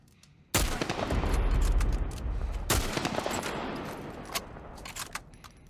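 Gunfire in The Last of Us Remastered, with two sudden loud bursts of shooting close by, each followed by a long rumbling tail of echo and crackle that slowly fades, with no talking over it.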